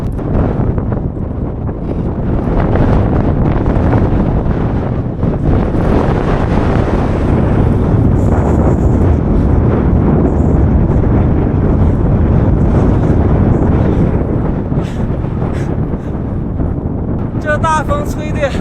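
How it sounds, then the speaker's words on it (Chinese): A strong headwind buffets a cyclist on the Ali middle route in a gale, a loud, continuous roar of wind rumbling across the microphone with no letup. "这大风吹的根本骑不动啊！"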